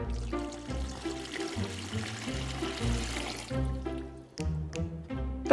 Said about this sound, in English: I've got an entire pitcher of cold water, and we're gonna pour this into the Sparter cooler